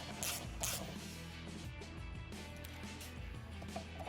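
A ratchet and socket run special locking nuts down onto long beadlock studs on a 37x12.50 Nitto Trail Grappler tire, giving a quiet, steady stream of fast clicking close by, with a few louder clicks near the start.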